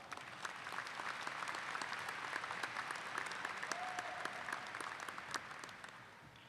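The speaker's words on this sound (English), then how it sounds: "Please give them a round of applause." Applause fills a university commencement hall, a steady, even wash of many hands clapping at moderate distance, fairly quiet overall and continuing with no talk.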